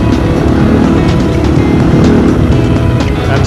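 A Kamaz truck and rally cars on a Dakar Rally stage roar loudly and continuously at close range as they pull away over rough ground.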